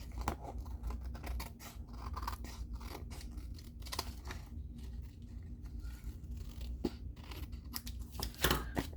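Scissors trim paper for a handmade card, giving a series of crisp snipping and rustling cuts close by, quiet overall, with short repeated bursts and a louder cut near the end.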